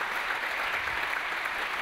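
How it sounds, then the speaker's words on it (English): An audience at a medical research awards ceremony in Belgrade gives sustained, dense applause for a dance group, a steady wash of clapping with no voices over it. "Give them one big applause."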